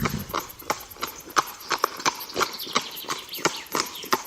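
Horse hooves clip-clop in a steady walking rhythm, each strike crisp and fairly close, with no voices over them.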